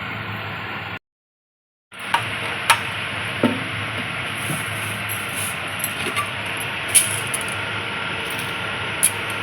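Masala dosa cooking on a hot pan with tomato chutney, giving a steady close sizzle, a brief dropout, then the hiss again with scattered light clicks and scrapes.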